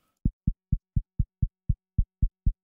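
Synthesized kick drum patch in Vital, with its pitch modulated and routed through a filter: ten punchy, low, short thumps in an even steady rhythm, close and alone with no voices.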